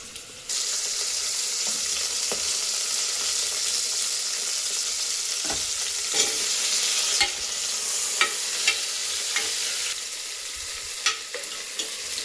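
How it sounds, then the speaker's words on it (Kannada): Potatoes and brinjal fry in a pan for sambar, a loud steady sizzle that starts abruptly, with repeated spoon scrapes and clanks as they are stirred. "ಇದನ್ನು ಆಗಾಗ್ಗೆ ಫ್ರೈ ಮಾಡ್ತಾ ಇರಬೇಕು, ಇಲ್ಲ ಅಂತಂದರೆ ತಳ ಹಿಡಿದ್ಬಿಡುತ್ತೆ"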